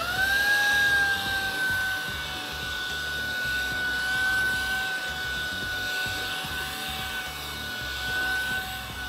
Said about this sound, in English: Pet hair on softer surfaces like sofas or pet bedding can be a nightmare, but using the textile tool, they are easy to take care of.